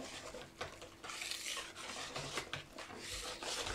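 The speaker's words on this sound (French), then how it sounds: "vous mélangez comme ça, on obtient une pâte liquide" Semolina batter mixture stirred in a bowl: quiet, repeated soft scraping and rubbing strokes, close up, with no voices.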